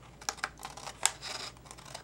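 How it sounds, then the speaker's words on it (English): Tim Holtz scissors snip across the edge of a paper card in a quick series of quiet, crisp cuts up close, with no talking. "I'm going to take my Tim Holtz scissors and just snip that going across"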